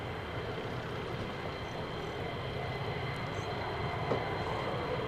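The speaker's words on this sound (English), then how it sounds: "V22 Osprey right there, folks. VTOL turboprop powered" A V-22 Osprey tiltrotor aircraft, a VTOL turboprop troop carrier, drones steadily at a distance, a low continuous engine rumble and rotor wash with no talk.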